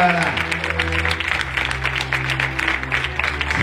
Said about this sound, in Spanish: ¿cuánto le aplauden fuerte a los que están escuchando la verdad?